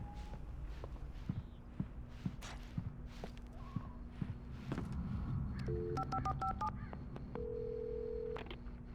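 In Alan Wake Remastered, footsteps shuffle along inside a gas station, then a phone keypad beeps out a quick series of dial tones, followed by a steady ringing tone.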